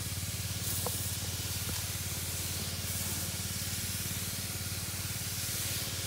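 Steady continuous hiss of a sprayer misting repellent onto young bean plants in a rainy-season garden, close and unbroken throughout, with a low hum underneath.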